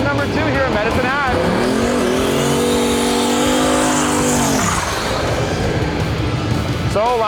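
The turbo LS-swapped Pizza Planet Datsun truck launches on a drag strip at Medicine Hat, a loud rising roar of revving engine with shifts and tire noise, then fading; people talk over it.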